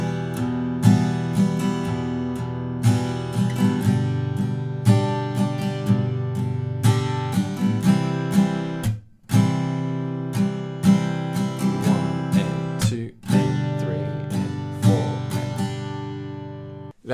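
An acoustic guitar strums the chorus of a song in a steady down-and-up pattern with muted beats. Full, ringing chords play close and alone, with two brief pauses between passes.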